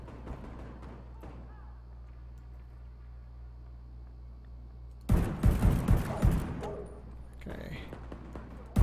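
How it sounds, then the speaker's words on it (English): Burst of rapid gunfire erupts midway through a quiet, droning stretch in the post-apocalyptic Washington DC setting of the video game The Division 2, several loud overlapping shots over about two seconds, then scattered fainter shots trailing off. "More shooting."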